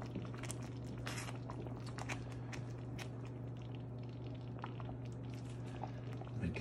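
Quiet, steady bubbling and crackling of milk sauce boiling in a pan, with soft sputters and a low constant hum underneath throughout.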